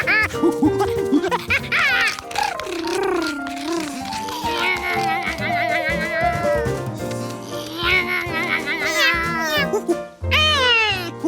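A cartoon cat meows again and again in long, sliding, whiny cries, loud and close. A steady run of yowls sits over a background music score, with brief breaks between calls.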